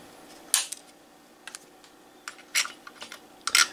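Cutters trim capacitor leads on a 1959 Westinghouse H673T5 tube radio under restoration, giving a few sharp, close snips spaced out over a quiet background.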